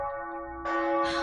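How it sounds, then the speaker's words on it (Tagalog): A church bell rings with sustained, resonant tones, its strokes layering and swelling louder toward the end. "Ang tunog sang kampana."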